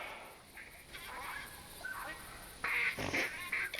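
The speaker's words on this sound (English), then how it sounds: "Ducks inbound behind you, Jack." Pintail ducks calling in a hunting video game, a few short nasal whistles and honk-like calls from a flock, moderately close, with brief voices talking over and between them.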